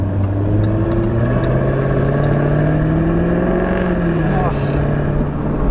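A 2018 Jaguar F-Type R Convertible engine revving while driving, a steady loud drone whose pitch climbs and then dips as it accelerates, with a brief shift near the end.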